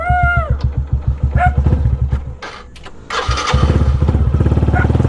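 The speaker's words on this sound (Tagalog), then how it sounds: "pinapainit ko na lang yung makina nya nang makalis na tayo" A motorcycle engine warms up early in the morning, revving in quick pulsing bursts before dipping and then settling into a steady, loud, close idle.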